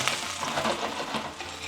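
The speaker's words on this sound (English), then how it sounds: "Whenever I'm cooking, I like to hear that sizzle." Chicken tikka masala sizzles and crackles steadily while it cooks, a close, continuous hiss with small bursts of spatter.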